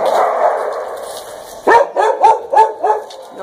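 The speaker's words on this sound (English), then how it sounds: "the dogs just followed me in" Dogs bark indoors, starting after a stretch of steady background noise, with about five loud, close barks in a quick, uneven series.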